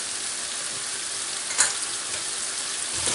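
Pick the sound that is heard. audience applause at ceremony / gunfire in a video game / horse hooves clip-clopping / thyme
thyme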